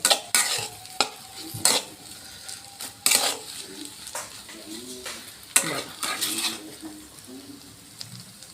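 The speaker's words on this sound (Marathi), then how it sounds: "ह्याला चांगलं हलवायचं कोथिंबीर टाकून." A spatula stirs stuffed okra with fresh coriander in a pan, giving loud intermittent scrapes and clanks against the metal over a soft sizzle, no talking.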